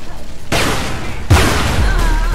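Loud in-game gunfire from Tomb Raider Legend, two heavy booming shot bursts a moment apart, each followed by a sustained rumbling tail.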